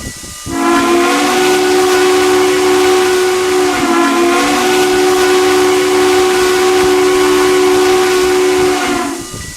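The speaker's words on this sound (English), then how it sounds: "we're gonna be whistling up for these locomotives" A loud, sustained model steam locomotive whistle blows steadily for about nine seconds, with a brief dip midway, over a hissing background.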